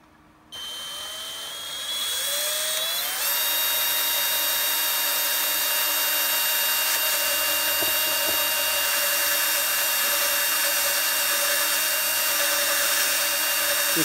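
A power drill spins up in steps to a loud, steady high whine while boring a hole for a Shadow Trooper armor build, running close and continuous without talk.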